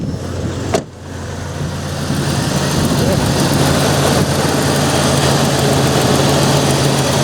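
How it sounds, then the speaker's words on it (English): A 1995 Jeep Cherokee engine idles with a steady low rumble and hum, close by, with a brief knock near the start and faint voices in the background. "I'll show you the engine, how it's running here."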